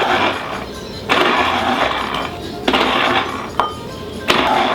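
Lemons are squeezed for a fish ceviche in several rough bursts of grinding, pressing noise, each opening with a hard click or clink, close and loud.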